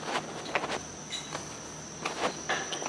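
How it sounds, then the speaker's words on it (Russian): Crickets chirping at night outdoors in Gudauta, Abkhazia: a steady, faint high trill that runs throughout, with soft irregular shuffles or footsteps nearby and no talk. "Сверчки."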